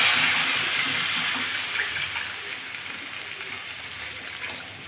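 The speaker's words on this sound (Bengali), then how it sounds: "এখন আমি ঝোল দিয়ে দিচ্ছি।" Broth is poured into a pan of rohu fish curry with turmeric, a steady rushing, watery pour that starts strong and eases slightly, with no talk.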